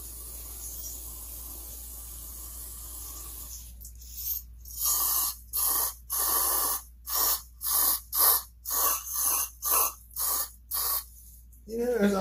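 Brake cleaner sprayed from an aerosol can during a 201t build, heard as about a dozen short, loud hissing bursts in a steady rhythm after a quiet start.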